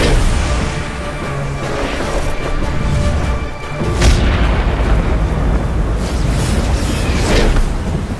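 A loud crack of lightning followed by thundering booms and crashing rumble, a dense dramatic effect with a sharp burst near the middle and sustained roaring around it.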